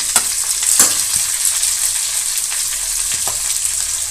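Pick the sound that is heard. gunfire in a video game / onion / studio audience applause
onion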